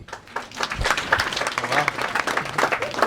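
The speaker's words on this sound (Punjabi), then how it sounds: "ਆਪਦੇ ਨਾਮ ਤੇ ਤਾੜੀ ਮਾਰ ਲਓ" An audience at an offline IELTS reading class claps: a brief spread of hand-clapping of moderate loudness in a room, mixed with people talking over it.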